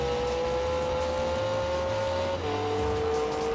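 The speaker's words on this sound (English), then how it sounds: "car sounds haven't really been good in any of these Gran Turismo games in this era" Race car engine audio from the Gran Turismo PSP game: a steady, loud synthetic engine drone holding one pitch, then dropping to a lower tone after a gear change, with a continuous low rumble underneath and no talk.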